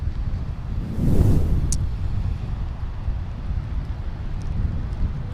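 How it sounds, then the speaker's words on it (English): Wind gusting at the mouth of Parley's Canyon during a snowstorm with sleet, a low rumbling buffet against the microphone that swells around the first second, then settles into steady roar. "Windy and a little sleet right now."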